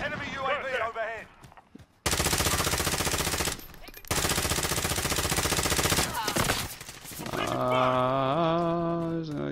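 Enemy gunfire in Call of Duty Warzone, long loud sustained bursts of rapid automatic shots with brief gaps between them, followed by a shifting tonal game sound, and a player's voice heard early on.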